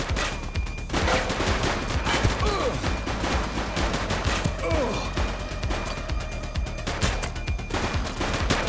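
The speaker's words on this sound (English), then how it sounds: "Light them up! He's shooting!" Heavy gunfire in the police video game The Precinct, dense continuous bursts of shots and impacts mixed with shouting voices, loud throughout.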